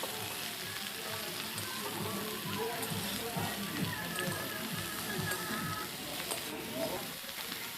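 Shredded cabbage fries with mixed vegetables in a pan for a winter vegetable curry, giving a steady, close sizzle with occasional stirring, while a voice talks over it.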